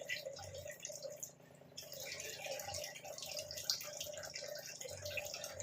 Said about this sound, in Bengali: দেখুন জলটা ফুটেও গেছে।